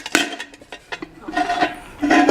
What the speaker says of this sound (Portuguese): A marca dessa panela chamava Panex.